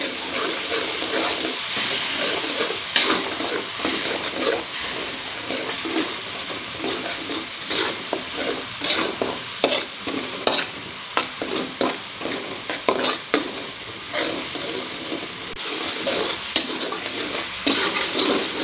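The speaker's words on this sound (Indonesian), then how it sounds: "Ini kita tumis bumbunya sampai matang." Spice paste sautéing with bay leaves and galangal for home-style ayam goreng bacem, a steady sizzle in the pan with rhythmic stirring scrapes and spatula knocks throughout.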